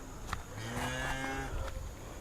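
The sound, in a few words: cow mooing on a farmhouse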